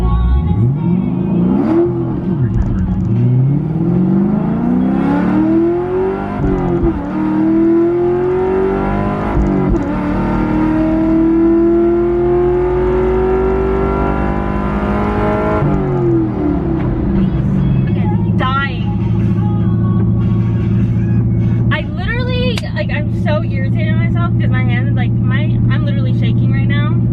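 A Chevrolet Camaro engine revs up and drops repeatedly as gears are shifted, rising and falling tones over a steady loud drone, with a voice talking over parts of it.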